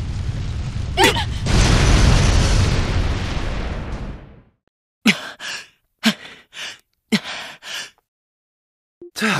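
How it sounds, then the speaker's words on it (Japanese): A loud explosion in the game Trails to Azure, a sustained roaring blast lasting about three seconds that cuts off into silence, followed by short breathy gasps and sighs from characters. "急げ！ 爆発するぞ！"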